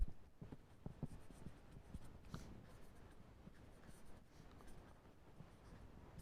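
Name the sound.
writing on a board during a lecture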